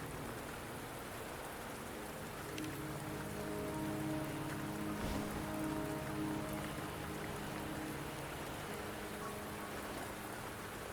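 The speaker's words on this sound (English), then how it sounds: "Don't worry, the rain won't last much longer." Rain falling in the video game Wuthering Waves, a steady, soft, even hiss that stays at low volume, with a faint tonal hum underneath and no voices.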